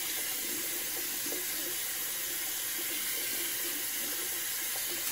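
Face painting brush rinsed under a running tap, a steady close hiss of water splashing into a sink throughout, with faint brushing movement beneath.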